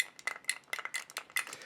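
A metal spoon stirring a drink in a glass, producing a quick run of light clinks and taps in an uneven rhythm, close and moderately loud with no talk.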